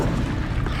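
Incendio fire spell cast in Hogwarts Legacy, a brief loud low whooshing roar of flame, close and steady for under a second.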